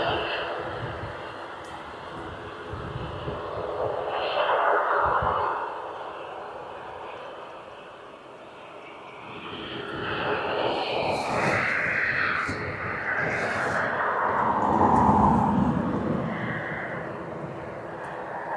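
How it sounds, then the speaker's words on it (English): A Loganair plane departs Aberdeen Airport, its engine noise building as a broad, steady roar that swells toward the end of the clip, with people talking faintly at times. "Okay, we're getting this departure by the looks of it. Loganair."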